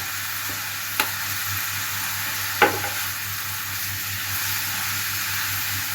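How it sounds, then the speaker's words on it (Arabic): Onion and black pepper sautéing in a pan for an eggplant and chicken maqluba, a steady soft sizzle running throughout with a couple of brief clinks of utensil against the pan. "بحب احط الفلفل الاسمر مع البصله، بديها كده نشره خفيفه"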